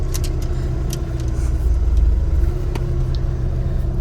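Volkswagen car with a DSG gearbox and fresh transmission fluid cruising gently through town streets, a steady close interior engine and road rumble with a slight swell in the middle and faint clicks.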